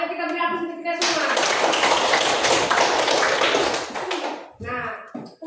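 A classroom group bursts into loud, sustained clapping lasting about three seconds, framed by a teacher speaking before and after.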